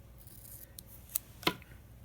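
Scissors snip through a small piece of washi tape for a budget journal page, giving two quick, close, crisp cuts in otherwise quiet surroundings.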